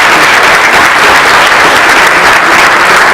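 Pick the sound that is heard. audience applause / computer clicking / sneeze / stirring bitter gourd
audience applause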